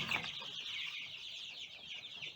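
Middle-aged and older chicks gathered at freshly mixed feed keep up a continuous, high, overlapping chorus of cheeping and soft clucks, fairly close and steady.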